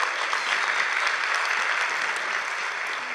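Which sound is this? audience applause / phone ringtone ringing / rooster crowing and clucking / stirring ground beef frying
audience applause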